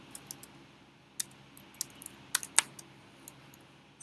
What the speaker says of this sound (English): Sorry about this typing.